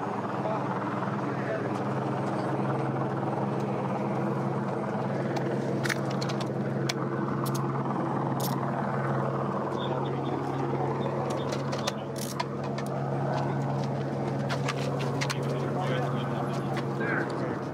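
A police helicopter circles overhead, its steady rotor drone continuous and loud throughout while officers and people talk nearby on the ground.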